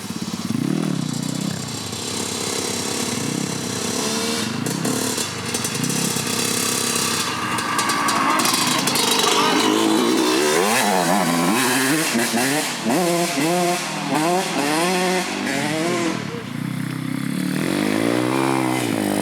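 A dirt bike engine revs and accelerates down a descent, a loud, rising and falling motor whine with rattling and crackle throughout, and people shout excitedly over it.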